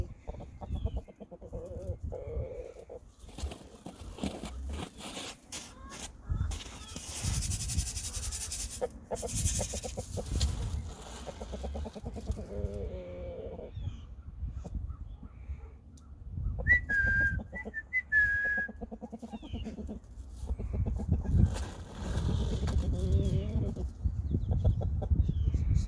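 Chickens cluck and a rooster sounds off around a flock as an injured hen is reintroduced, with intermittent whistling, scuffling and a few short high calls over a fairly quiet yard.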